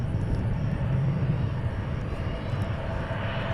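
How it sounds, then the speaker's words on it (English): CRJ regional jet departing DFW International Airport, a steady loud engine roar with deep rumble and a faint high whine, constant throughout and heard from nearby. "next up, departing is CRJ to Lincoln,"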